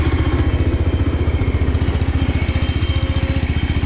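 A John Deere X485 lawn tractor engine runs steadily during a ride, a loud, close, continuous rhythmic chugging with mechanical clatter and no talking.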